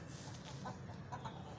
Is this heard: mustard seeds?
no